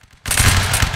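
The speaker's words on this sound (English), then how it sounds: "Very good volley." A line of soldiers fires a musket volley in the Napoleonic Wars video game, a sudden loud crackling blast of many shots at once that rolls on as a dense roar.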